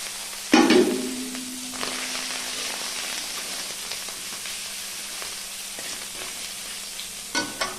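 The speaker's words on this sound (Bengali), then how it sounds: "ভালো করে ভেজে নিলাম।" Spices hit hot oil in a pan with a sudden loud sizzling burst, then settle into a quieter steady frying crackle with scattered small pops, and a second brief flare near the end; no one speaks.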